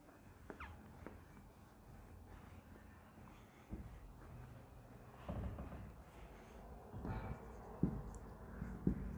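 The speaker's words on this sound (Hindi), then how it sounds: "उसके बाद में और लिख देता हूं बोर्ड पे" Marker or chalk writing on a classroom board during a Hindi-medium class 10 science lesson, with scattered soft scratches and taps at moderate distance over a quiet room.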